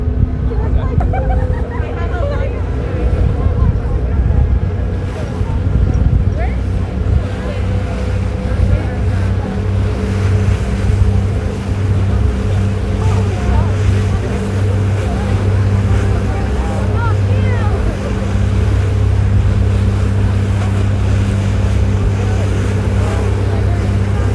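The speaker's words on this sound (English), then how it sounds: "My hair's getting messed up from the wind." Heavy wind buffets the microphone on the open deck of an NYC Ferry heading toward Brooklyn, a loud continuous low rumble mixed with the boat's engine drone, with occasional voices underneath.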